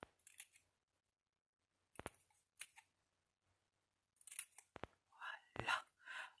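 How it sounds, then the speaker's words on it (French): Scissors snipping gluing tabs off a paper or card craft piece, heard as a few sharp close cuts spaced apart, with soft quiet speech and handling noises between them. "Et ici, on vient couper les onglets de collage."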